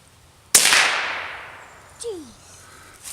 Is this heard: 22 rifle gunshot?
yes